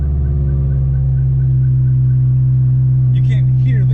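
Honda S2000 sports car engine firing up by push-button start and settling into a steady, loud low idle hum, with a brief higher-pitched mechanical chirp near the end.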